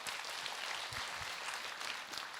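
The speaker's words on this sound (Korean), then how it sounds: "박수 좀 해주세요" Audience applause at a Buddhist monk's Dharma talk session, continuous, fairly soft clapping from a crowd heard throughout.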